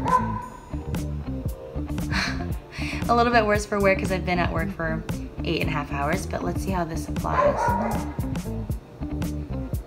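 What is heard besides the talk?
dogs barking outside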